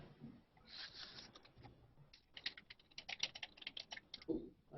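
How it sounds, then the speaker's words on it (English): Rapid typing on a computer keyboard, a close, dense patter of light key clicks in irregular bursts with short pauses, no voices. "I've got Arthur typing."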